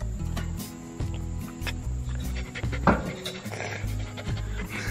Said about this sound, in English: Is he the best dog you ever had?